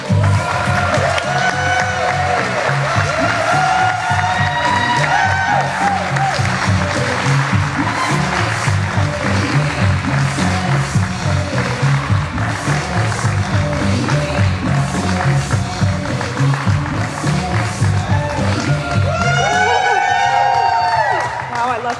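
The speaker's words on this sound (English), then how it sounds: "Cheering section." An audience at a city's State of the City address cheers and applauds as the mayor takes the stage, a loud, sustained burst of clapping and whoops with voices calling out over it.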